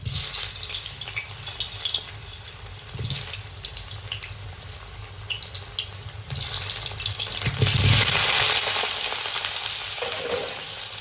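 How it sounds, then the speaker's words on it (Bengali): Pieces of elephant foot yam sizzle in hot oil, a steady crackling fry with occasional clatter and scraping, growing louder and fuller toward the end as the pieces hit the pan. "তেল গরম হয়ে গেছে এখন ওলগুলো দিয়ে দিচ্ছি"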